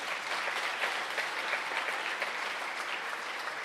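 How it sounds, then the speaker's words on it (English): An audience at a memorial-to-celebration ceremony applauds soldiers and their families, producing steady, even applause that fills the room without a break and with no talk over it. "we should be clapping for all the soldiers and the families."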